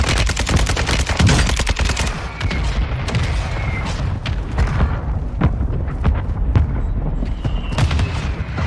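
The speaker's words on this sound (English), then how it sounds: "Mortar strike inbound." Mortar strike explosions in the video game Warzone 2 on Ashika Island, with a rapid volley of sharp blasts at the start, then scattered booms and cracks over a constant rumbling battle backdrop.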